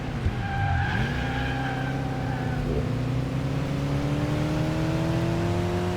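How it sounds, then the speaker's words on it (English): A car yanked into a handbrake skid turn in Forza, with a loud tire squeal sweeping across a steady revving engine drone, the pitch dipping then climbing as the car slides around. "I'm gonna yank the handbrake and rip it around"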